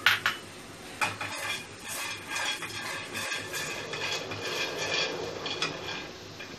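Peanuts roasting in a pan are stirred with a utensil, giving repeated scraping and rattling clatter of nuts against metal, close and steady, with no talk over it.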